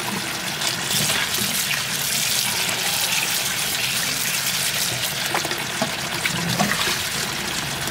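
Seaweed, or guso, being washed in water, a constant loud splashing and rushing of water throughout with no pauses and no talking.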